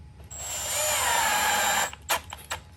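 A cordless Milwaukee power drill drives a screw through tape for mounting to a PACKOUT case, giving a steady whine for about two seconds followed by a few short bursts.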